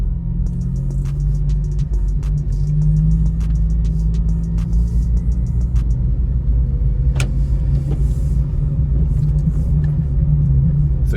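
A manual Honda Civic Si lurching and bucking in first gear rumbles with a loud, steady low engine drone inside the car, a few clicks and knocks over the top.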